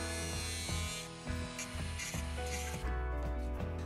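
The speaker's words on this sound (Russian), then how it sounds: "я беру простую удлиненную гайку и выпиливаю в ней небольшой паз 5-6 мм" A hand saw cuts a small 5–6 mm slot into an elongated metal nut with steady, evenly spaced rasping strokes at moderate volume in a quiet workshop.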